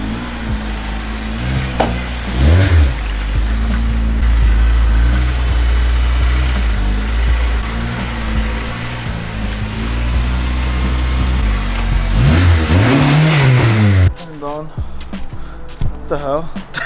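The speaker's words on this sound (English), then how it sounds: "I'm gonna see if the car turns on, just so we don't have to push it" Acura RSX Type S engine cranking, catching and revving, a loud continuous drone with several sharp rising revs near the start and end, with people talking over it.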